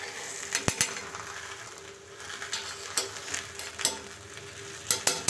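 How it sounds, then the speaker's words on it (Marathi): Tomato paratha roasting on a hot pan with butter, oil or ghee, giving a steady soft sizzle broken by a few sharp scrapes and clinks of a spatula against the pan, fairly close with no talk. "पराठा टाकून घेऊया आणि दोन्ही साईडनं आपल्याला चांगला शेकून घ्यायचा आहे पराठा"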